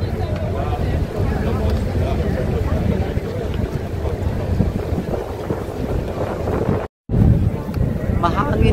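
Wind blows hard outdoors beside the water in Amsterdam, a steady roaring buffet of gusts across the microphone that stays loud throughout, broken only by a brief cut near the end.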